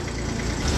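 Tractor engine rumbling in a muddy, rain-soaked traffic jam, a steady close mechanical drone with a low throb that grows slightly heavier at the end.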